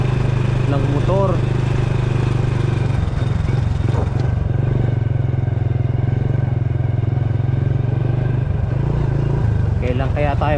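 A motorcycle engine drones loudly and steadily on the move, with brief voices heard over the constant roar.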